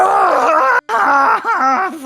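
A voice imitating a guttural shriek, a loud strained wail with wavering pitch, broken by a brief pause and then resumed as a rough drawn-out cry.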